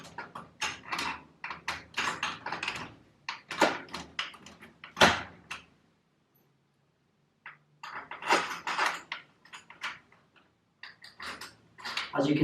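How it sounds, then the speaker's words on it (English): Handles being refitted on a uPVC door with a Torchguard XL security plate: close clunks, clicks and metallic taps in irregular bursts, with a brief quiet gap partway through. "I'm just going to put the handles back on again."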